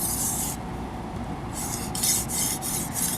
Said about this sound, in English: This thing's pretty awkward to sharpen.